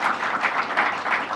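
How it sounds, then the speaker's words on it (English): A crowd at an apartment building ribbon cutting claps steadily in a dense, even wash of applause, moderately loud and without voices. "Let's give them a round of applause as well."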